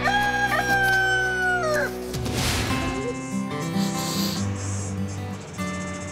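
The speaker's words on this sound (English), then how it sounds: "this noisy rooster really has something to crow about." A rooster crows loud and close, one long drawn-out call, followed by rustling and softer background clucks and farmyard noise.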